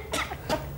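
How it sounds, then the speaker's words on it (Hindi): A woman gives two short, sharp coughs, close and moderately loud, with a brief gap between them. "भगवान के लिए बस बेवक पागलों की तरह से मत खासा कर"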